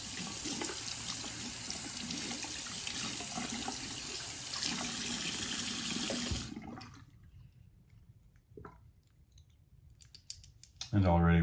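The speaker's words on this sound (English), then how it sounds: "Let's give this a rinse." Running water pours steadily over a brass Gem Micromatic open comb safety razor for several seconds, then cuts off, leaving a few faint drips and handling clicks before a brief louder clatter at the end.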